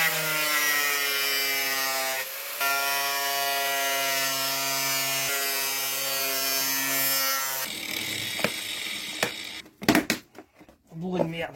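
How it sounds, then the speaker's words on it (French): A steady high-pitched electric cutting tool whines for several seconds while slicing the plastic air box of a 130 hp VW TDI engine, then stops, followed by clattering handling noises. "je vais m'occuper de découper la boîte à air"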